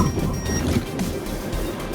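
A Mercedes-Benz car drives straight toward an obstacle at 30 km/h during a safety demonstration, giving a steady, close interior hum of engine and road noise that holds evenly throughout.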